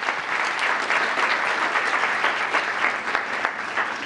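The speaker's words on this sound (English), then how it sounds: "Let's hear a big round of applause for group two." An audience at a town council meeting applauds a group, a dense, loud and steady clatter of many hands clapping close by for several seconds, with no talk over it.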